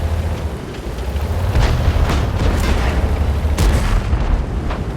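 Tank cannon fire in the video game World of Tanks, heard as loud, booming blasts with sharp attacks over a continuous low engine rumble, a couple of distinct shots standing out near the middle and end.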